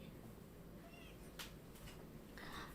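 A kitten that has just woken up gives a few soft, faint meows indoors against a quiet room background.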